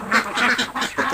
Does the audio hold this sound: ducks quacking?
yes